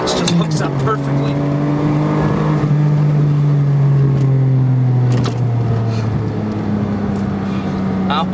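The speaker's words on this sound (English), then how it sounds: "What else sounds like a 12-cylinder Ferrari?" A 1999 Ferrari 550 Maranello's V12 revs hard in first gear toward its 7,500 RPM redline, a loud, continuous rising engine note with gear-shift dips, heard close from inside the car with a voice talking over it.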